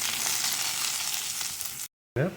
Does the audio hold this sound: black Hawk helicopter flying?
no